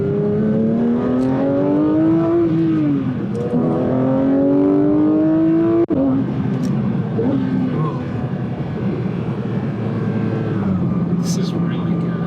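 Porsche GT3 engine pulling hard under acceleration, its tone rising steadily, dipping at a gear change and climbing again, loud and close inside the car with road noise throughout.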